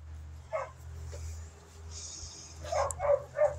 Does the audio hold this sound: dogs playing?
yes